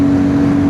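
A Royal Enfield Guerrilla 450 motorcycle cruises in sixth gear at about 110–120 km/h. Its engine drones loud and steady, with a strong tonal hum and wind rush for under a second.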